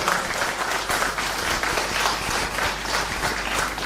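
An audience at a university convocation ceremony gives a graduating student a round of applause, a dense, even clapping that carries steadily throughout at moderate volume.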